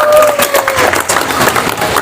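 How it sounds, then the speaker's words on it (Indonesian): A crowd at a club's Independence Day competition claps in steady, dense applause, close and loud, with voices mixed in throughout. "Tepuk tangan buat semua."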